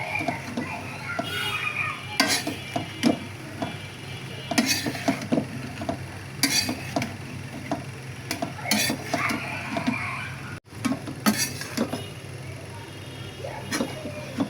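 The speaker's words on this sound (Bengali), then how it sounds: "অল্প অল্প করে সবগুলো শাক চিংড়ির সাথে মিলিয়ে দিচ্ছি" A spoon stirs shrimp and Malabar spinach in a pan, scraping and clinking against the metal over a steady soft sizzle, with intermittent knocks throughout and a brief pause near the end.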